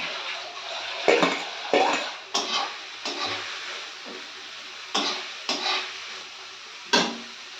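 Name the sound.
small shrimp added to pan with fried onion stalks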